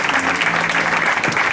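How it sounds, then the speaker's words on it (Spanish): Audience at a farewell singing showcase applauds for John John and the students, a dense steady burst of close clapping filling the moment with no voices over it. "fuerte aplauso a John John, todos los alumnos"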